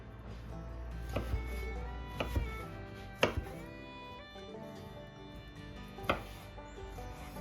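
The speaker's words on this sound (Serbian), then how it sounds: "kajsije sečemo na kockice" A knife chopping apricots into cubes on a board, with a handful of irregular, sharp knocks spaced a second or so apart over quieter soft cutting and handling sounds, close up.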